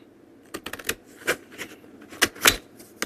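Scissors snip around sentiments on black card, a close run of short crisp cuts in irregular bursts, with quiet gaps between snips and no voices.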